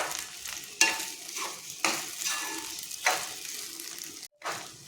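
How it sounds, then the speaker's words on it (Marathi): Sabudana khichdi sautéed in a pan over a low flame, a spatula scraping and stirring in regular strokes about once a second over a soft background sizzle. "हे आपल्याला मंद गॅसवर परतायचं आहे"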